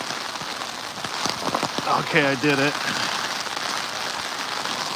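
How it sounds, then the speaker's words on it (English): Steady rain patters on a Los Angeles street in a downpour, a dense hiss throughout, with someone speaking briefly partway through. "Just fucking chilling in the rain."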